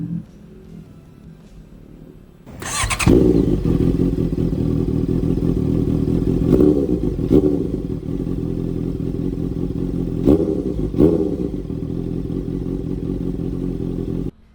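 A 2014 Honda CB650F motorcycle with a 2-inch exhaust idles quietly, then fires up into a loud, raspy rev that holds steady with a few sharper throttle blips, close by.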